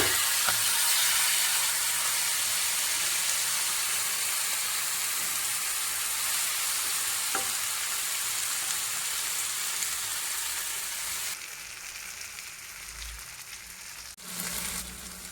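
Fish frying in a pan over a medium flame, a continuous close bright sizzle with a soft crackle, dropping in intensity partway through and followed by a brief louder burst.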